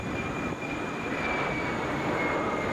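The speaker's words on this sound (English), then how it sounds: "On the approach right now, coming in from Toronto, that is Delta Flight 1771, coming in on an Airbus A320" Delta Airbus A320 arriving from Toronto lands at Atlanta airport, a steady broad roar of jet engines and airflow rising slightly, heard from nearby without voices.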